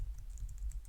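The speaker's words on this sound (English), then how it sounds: "we must activate the virtual environment by typing source" Keys on a Mac computer keyboard tapping out a short terminal command, a quick run of light, close clicks at an uneven typing rhythm with no talking.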